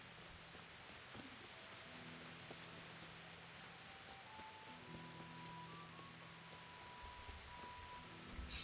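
Steady rain falls in the Kingdom Come: Deliverance video game, a dense even hiss of drops with faint low ambient tones underneath.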